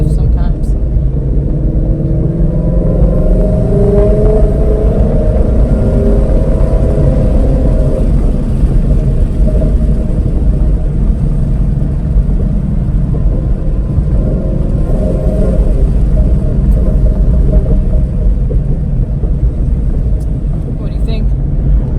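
A car engine holds a steady, loud rumbling drone for the whole stretch, heard from close range. The suspected fault is a noise from the blower, air box or mid muffler at gear shifts, and the drone does not noticeably break.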